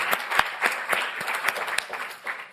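Audience applause at a European conference on equal participation, honoring France for putting abortion rights in its constitution: distinct claps build into a steady patter, moderately near, with faint voices beneath.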